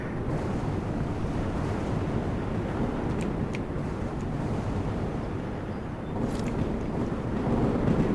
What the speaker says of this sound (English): Hey, it's another storm.